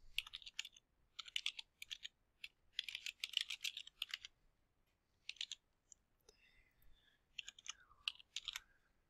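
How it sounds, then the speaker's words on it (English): Typing on a computer keyboard while entering a title into a library catalog record, heard as bursts of quick, light key clicks separated by short pauses, fairly close and quiet, with no voices. "type in the title again"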